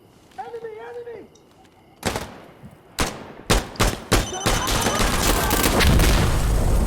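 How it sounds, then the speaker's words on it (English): Gunfire crackles in sharp separate bursts during an Insurgency Sandstorm firefight, then a loud grenade explosion swells into a sustained, roaring blast that fills the rest of the moment. "There was a grenade though"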